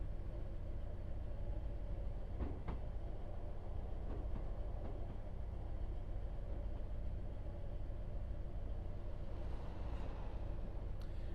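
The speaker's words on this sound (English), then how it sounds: "we are coming into Nottingham Station, 3A, platform 3A" A train in the Train Sim World 4 simulator rolls into Nottingham station on the Midland Main Line, a low, quiet rumble of wheels and engine that holds steady, with a few faint clanks over it.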